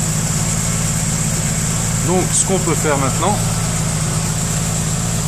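A Volkswagen Corrado G60 engine idles steadily at 980 rpm, a constant low hum with a steady high whine, while someone talks briefly over it in the middle.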